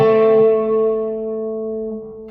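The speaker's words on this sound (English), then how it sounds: "I push the button once and I get some overdrive." Electric guitar through the overdrive channel of a Peavey Vypyr X2 amp: one struck chord rings out loud and thick, then sustains and slowly decays over a couple of seconds, alone with no talking.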